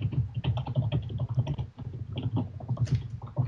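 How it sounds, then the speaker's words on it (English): Rapid typing on a computer keyboard, a dense run of quick keystroke clicks with brief pauses, heard alone at close range during a Minecraft multiplayer session. "Here's somebody rapidly typing."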